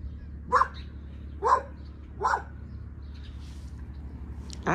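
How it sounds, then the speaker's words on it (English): A puppy barks three short, evenly spaced times, fairly close, over a steady low hum, then falls quiet before a faint final yelp. "and the puppy letting you know, hey, wait a minute."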